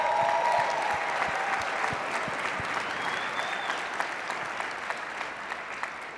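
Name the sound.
audience applause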